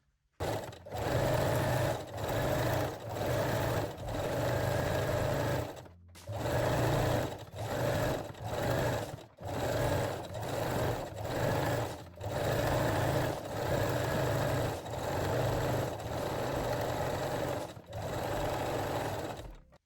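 A sewing machine stitches a fold-over elastic waistband on underwear in bursts of a few seconds each, with brief pauses between them. Its rapid mechanical whir stays close and steady.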